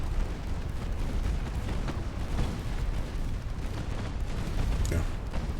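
Naval gunfire from warships in the Ultimate Admiral Dreadnoughts game, a steady rumble of deep booming shots rolling continuously with a sharper report near the end.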